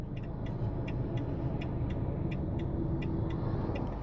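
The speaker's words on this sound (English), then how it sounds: "sorry if you can hear the road traffic" Road traffic streams past a parking bay on the A55, a constant low rumble of cars with a faint regular ticking over it, near and steady.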